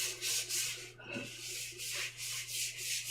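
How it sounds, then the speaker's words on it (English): Sandpaper rubbing the inside of a brake drum as the drum is turned, repeated rhythmic rasping strokes at close range, with a brief pause near the middle. "Turning the drum. A piece of sandpaper."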